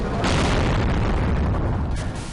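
A Pyro Cannon fires in a Doom WAD shooter, one loud, broad booming blast that swells within the first quarter second and rolls on at full strength for about two seconds, alone with no talk.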